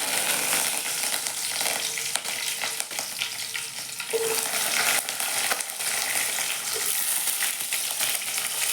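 Cumin, mustard seeds and curry leaves fry in hot oil with a loud, continuous crackling sizzle and occasional stirring, steady and close throughout.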